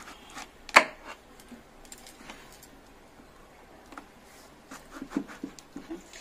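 A knife slices a bottle gourd in two on a kitchen surface: one sharp, close chop, then quieter taps and scrapes, with no voices.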